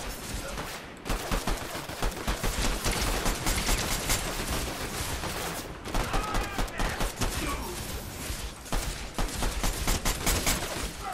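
Pistol gunfire in a battle royale video game rings out in dense, rapid bursts with short pauses between volleys, loud and close, over constant game noise, with a voice speaking at times.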